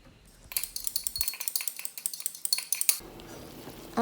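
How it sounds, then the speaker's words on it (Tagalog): Rosemary being chopped with a knife on a kitchen board, a quick run of close, sharp rhythmic taps and knocks lasting a few seconds before stopping, with faint room noise around it. "kailangan tadtarin yung rosemary"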